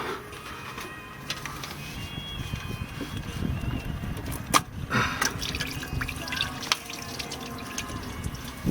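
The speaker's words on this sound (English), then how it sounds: "Well, there goes the coolant leak." Coolant draining from a 1996-2000 Honda Civic during a thermostat change, a close continuous splashing trickle of liquid with scattered drips and a few sharper knocks of tools or parts.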